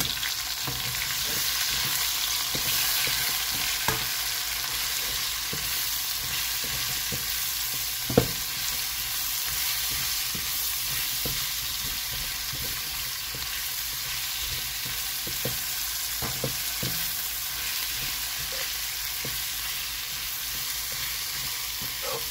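Onion and garlic fry in a pan for beef papaitan, a continuous close sizzle with scattered small pops and occasional stirring clatter, no voices over it.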